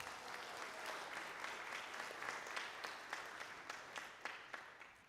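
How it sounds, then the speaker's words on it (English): A worship congregation applauds its donors with sustained clapping from many hands, steady and fairly loud, with individual claps popping out more distinctly toward the end as it starts to thin. "Let's give these folks a round of applause."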